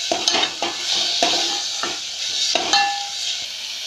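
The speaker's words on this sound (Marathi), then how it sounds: "हा मसाला तांबूस रंगापर्यंत छान असा भाजून घ्यायचा आहे तेलामध्ये" Masala being roasted in hot oil is stirred in a pan, with a steady sizzle broken by repeated scraping strokes of a spoon every half second or so, close and fairly loud, with no talk.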